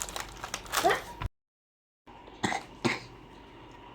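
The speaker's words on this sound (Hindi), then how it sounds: "इधर हो रहा है खांसी और फिर खा रहा है चिप्स" A few sharp coughs close by, one early burst, then two quick coughs after a pause, with faint rustling between.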